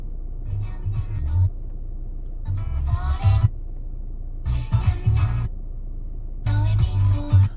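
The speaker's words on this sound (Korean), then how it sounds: "이런 식으로 라디오 소리가 나왔다 끊겼다 나왔다 끊겼다 합니다" Music from an Audi A4's car radio plays in short bursts that repeatedly drop out into silence, cutting in and out at irregular intervals after a tuner replacement.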